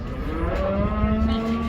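A cow lows at the Kyzylorda livestock market, one long, loud, close moo with a steady tone over low background rumble; no one speaks.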